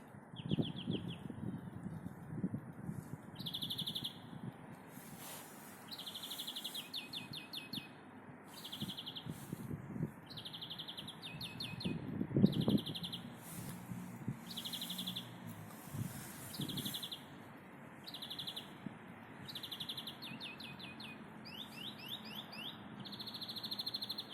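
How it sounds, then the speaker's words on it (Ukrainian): A small bird sings repeated short, high trilling phrases at regular intervals over low outdoor rumble and occasional thumps, fairly close and clear. "Ось тут пташка співає."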